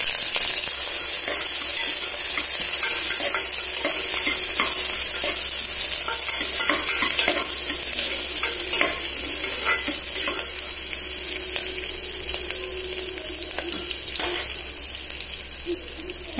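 Onions drop into hot oil already crackling with fennel seeds for a simple white pulao, a loud continuous sizzle with spatula stirring scrapes running throughout, close up and without speech.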